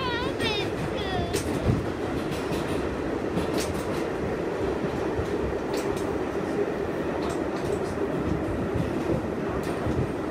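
A New York City subway train rides along with a constant loud rumble, rattling carriage noise and clattering wheels, plus brief metallic squeals near the start and occasional clanks throughout.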